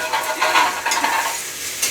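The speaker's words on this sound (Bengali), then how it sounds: "হালকা ভাজতে হয়, একদম বেশি না, জাস্ট হালকা একটুখানি ভাজা হবে" Chow mein ingredients frying in hot oil with a little Dalda, a close, loud crackling sizzle with bursts of stirring scrapes, no talk.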